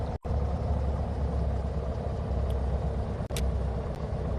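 A car engine idles steadily at a parked spot, a low constant rumble that runs on alone with two brief dips in level.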